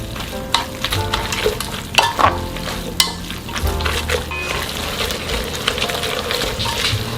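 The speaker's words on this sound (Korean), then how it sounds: "미역이 잘 볶아졌고요." Seaweed stir-fried with tuna extract in a pot for beef seaweed soup gives a close, steady sizzle, broken by sharp scraping knocks of a utensil against the pot in the first few seconds.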